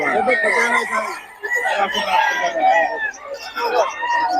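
Chickens and roosters, including young stags, crow and cluck at a rooster keeping spot in Bocaue over continuous nearby voices.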